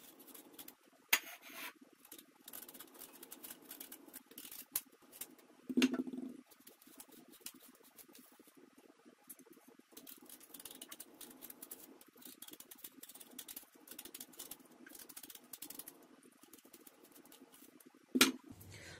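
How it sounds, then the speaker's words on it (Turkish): Quinces are being peeled by hand, a quiet, close rubbing and scraping of blade against fruit skin that comes and goes, with a couple of brief louder knocks and soft handling noises. "Öncelikle ayvalarımın hepsini soyuyorum."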